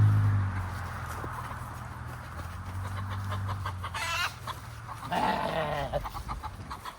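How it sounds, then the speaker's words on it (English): Chickens on a farm cluck and squawk in agitated bursts while being chased during storm preparations for Hurricane Milton, with a louder flurry of calls near the end over a steady low background rumble. "Get the bird, Rocky"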